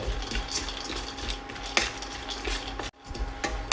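Cashew nuts roast over a medium flame in a pan, stirred steadily with a utensil that scrapes and clinks against the metal in a continuous close clatter, broken by one brief pause near the end.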